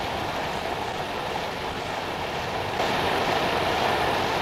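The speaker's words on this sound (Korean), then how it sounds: "두 갈래로 나뉘어 쏟아지는 비룡폭포." Biryong waterfall on Mount Baekdu, a twin-stream fall splitting in two, pours down as a steady, dense roar of rushing water that stays even and close throughout, swelling slightly louder partway through.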